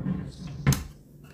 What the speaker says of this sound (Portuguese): E aqui tem duas gavetas.